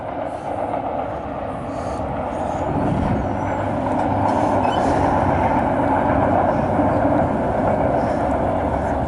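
A loaded CSX double-stack freight train rolling past, a continuous loud rumble and clatter of wagons that grows slightly heavier and holds steady throughout.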